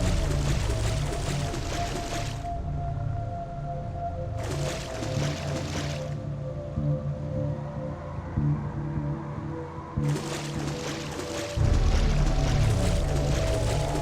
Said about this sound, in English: the only other sound accompanying you is the splash of Dante's feet as he runs to our next destination